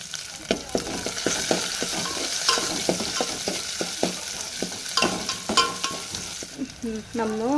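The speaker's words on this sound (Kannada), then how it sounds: "ಉಳ್ಳಾಗಡ್ಡಿ ಇಲ್ಲೇ ಫ್ರೈ ಆಗತ್ತು ರೀ" Onions sizzle in a hot pan while a utensil scrapes and stirs in repeated short strokes, with a brief squeaky sound near the end.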